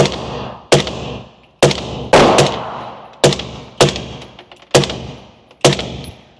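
A 300 Blackout rifle fired at a paper target on a range: about nine loud, sharp reports with ringing decay, some spaced singly and some in quick pairs, close to the microphone with no talking.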